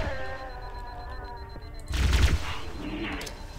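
Gunfire in Halo: Combat Evolved, a brief burst of shots standing out for about half a second over a steady bed of game music and ambience.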